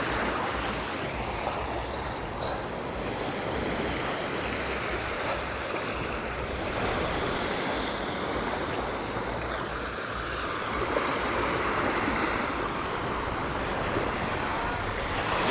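Ocean waves wash onto Lamai Beach on Koh Samui along the Gulf of Thailand, a steady broadband surf roar with wind buffeting the microphone throughout, fairly constant in level with no talk.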